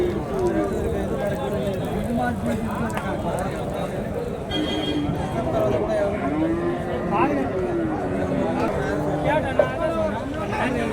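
Cattle low at the busy Kundarapalli cattle market, where breeding bulls are on sale. Drawn-out moos rise over a steady bed of crowd chatter and nearby talk.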